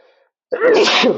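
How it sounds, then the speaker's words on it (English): A single loud, sharp sneeze bursts out after a short silence, close to the microphone and with no talk over it, in the middle of a live Friday stock market closing show. "Sneezing all over the place."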